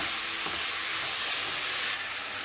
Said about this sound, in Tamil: மஷ்ரூமை நல்லா ஃப்ரை பண்ணணும்